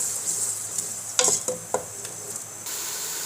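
Ground ginger, garlic and onion sizzle in hot oil for a rajma lobia curry, with a steady frying hiss and a few sharp scrapes and clinks of a spoon stirring the pan.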